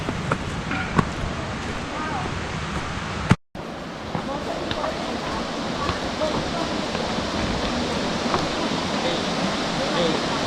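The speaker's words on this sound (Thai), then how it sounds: "ได้ยินเสียงน้ำตกเลยตอนนี้" The Namkat waterfall in Oudomxay, Laos, gives a steady broadband rushing roar that continues without a break, apart from one brief dropout, while people talk over it at times.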